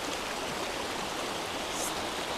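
A muddy, turbid river flows steadily, its broadband rushing water noise continuous and fairly close throughout, with no voices present.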